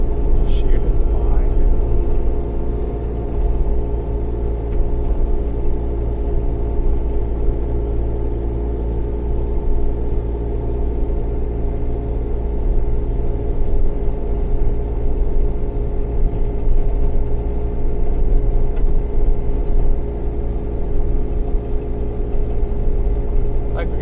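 A Bobcat Toolcat fitted with an 86-inch plow motors through a snow drift, its engine holding a steady, close, low rumble and drone that runs without a break the whole time.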